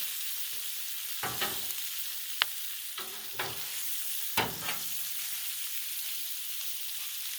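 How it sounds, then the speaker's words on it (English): Frozen pierogies sizzle on a Blackstone griddle: a steady, close frying hiss runs throughout, broken by a few sharp spatula taps and scrapes, with no voices. "The pierogies are getting a char, but they're still frozen."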